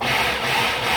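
A blender pulses a thick refried bean mixture made with beans, their cooking liquid and onion, giving a dense, gritty whir that runs steadily and loudly for a brief moment with no talking.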